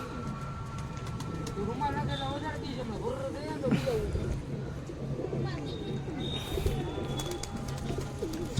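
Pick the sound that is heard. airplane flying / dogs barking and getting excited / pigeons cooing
pigeons cooing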